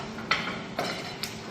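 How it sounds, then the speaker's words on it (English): A spoon scrapes and taps through rice and fried bacon in a frying pan, three brief metallic clinks spaced about half a second apart over a steady low sizzle. "And then just stir it together."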